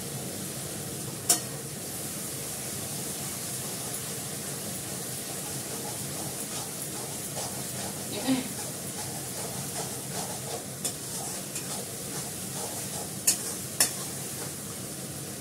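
Spices fry in oil in a pan with a soft, continuous sizzle and hiss, broken by a few sharp clinks and scrapes of stirring, moderately quiet and without talk.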